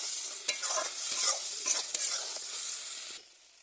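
Ground spices such as cumin powder fry in a pan while a utensil stirs them, giving scraping strokes and clicks over a bright, close sizzle that quietens slightly toward the end.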